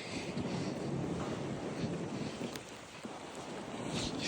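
Strong wind during a snowstorm, estimated at around 55 miles per hour, roars steadily and loudly across the microphone in a dense, unbroken rush with slight gusting swells.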